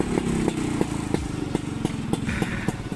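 A Vespa scooter is kick-started with a rhythmic series of sharp thumps and clatter as the kick lever is worked, over a low engine rumble that stays close and steady.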